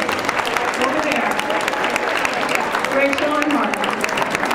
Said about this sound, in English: Please give my husband and my daughter a round of applause for putting up for me when I ran for office